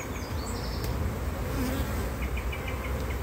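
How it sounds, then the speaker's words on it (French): Honeybees swarm around crowded open hives during a spring colony inspection, a dense, continuous close buzzing hum with individual bees droning past now and then. "Là, il y a beaucoup de monde dans les ruches."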